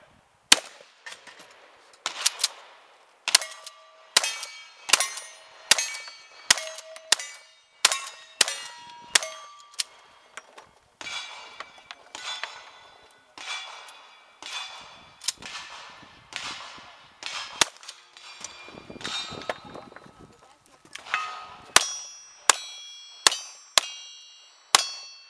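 Gunshots striking a metal target: a long string of sharp cracks, each followed by a ringing clang, spaced about a second apart with some quicker bursts near the end, crisp and fairly close, without talk.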